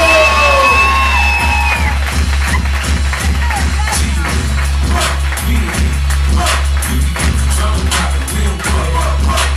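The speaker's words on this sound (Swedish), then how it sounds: "En stor applåd för honom." A stand-up comedy audience applauds and cheers for a comedian, with whoops and shouts over dense clapping and a low steady rumble, loud and sustained.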